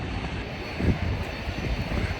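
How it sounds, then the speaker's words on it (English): A steady, broad engine roar of an airplane flying overhead near St Thomas airport, fairly distant and unchanging, with no talking. "See that plane going by right there?"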